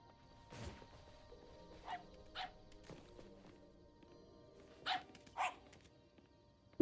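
A little dog in the game NTE gives a few short, sharp barks in separate bursts, fairly close against a quiet background.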